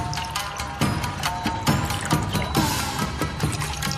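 Sake pours into a glass with a steady, close trickle and splash that runs almost continuously, with faint dripping.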